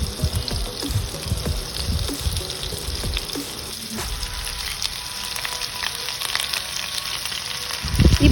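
Cleaned, deveined shrimp frying in butter and a little oil for Indian-style pasta, producing a loud, continuous sizzle with bubbling crackle and a few clatters of handling, and no talk.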